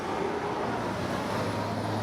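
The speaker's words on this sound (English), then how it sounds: "Very loud out here with the traffic," Road traffic noise fills an outdoor space as a steady, broad rumble and hiss of passing vehicles, moderately loud and continuous, with no one talking.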